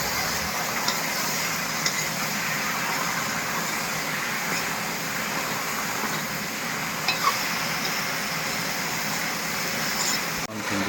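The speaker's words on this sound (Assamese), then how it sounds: "ভেন্দিটো ভাজি আছোঁ।" Okra and potatoes fry together in a pan, producing a steady, moderate sizzle with occasional faint clicks of stirring, continuous and without voices.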